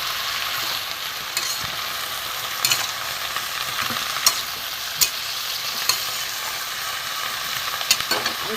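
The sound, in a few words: stirring and frying spices for prawn pumpkin curry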